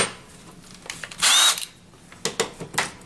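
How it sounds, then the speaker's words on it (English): A power drill bores a pilot hole in the side of a wooden speaker cabinet, giving one short, close, whining burst with a rising pitch, followed by several quick scraping taps. "We'll start off with just a normal pilot hole"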